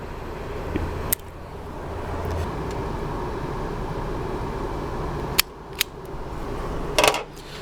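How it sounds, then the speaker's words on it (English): Wire snipped with cutters while installing extra brake lights on an RV: a few sharp, brief clicks spaced over several seconds against a steady low background hum, with no talking. "So I'm just gonna cut this wire."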